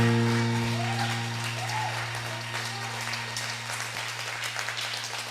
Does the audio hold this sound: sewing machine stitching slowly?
no